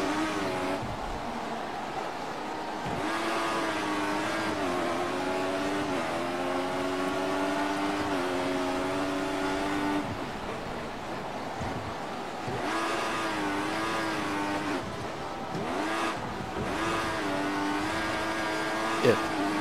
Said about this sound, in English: We're just sliding and wheel spinning like crazy